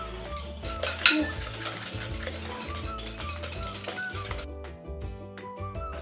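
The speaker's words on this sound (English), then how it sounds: "I'm going to whisk my eggs with my sugar" Eggs and sugar being whisked together by hand in a separate bowl while making lemon curd, a busy metallic clatter of whisk against bowl repeating steadily and close up, with no talking.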